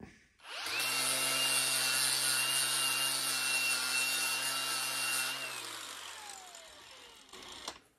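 A power tool cleans a metal surface before welding on a 1972 VW Super Beetle rear truss bar, spinning up to a loud steady whine for about five seconds, then winding down with a falling tone.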